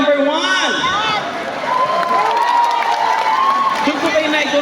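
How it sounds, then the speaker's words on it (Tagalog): Lively crowd noise from a talent-show audience, with cheering and shouts rising and falling over steady chatter, close and loud throughout; voices are heard among the crowd. "Palakpak lang po na may kasamang niyaw kung sino po ang mananalo."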